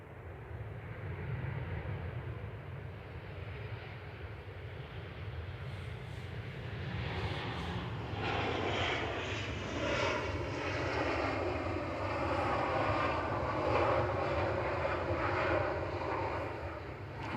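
A Ryanair plane arriving from Porto at Manchester Airport roars steadily overhead, its jet engines holding a loud, sustained rumble that swells slightly toward the end, with no one speaking.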